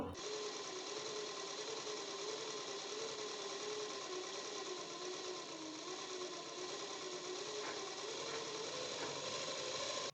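A sewing machine stitches a fall onto an old cotton saree, running in a steady, continuous high-speed whir for the whole stretch with no pauses and no talking.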